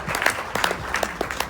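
Applause from the audience at a music awards ceremony, lasting about a second and a half and moderately loud, with scattered individual claps standing out over a steady patter.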